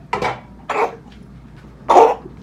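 A mother coughs three times, close by and distinct, with short gaps between each bark-like cough in an otherwise quiet room.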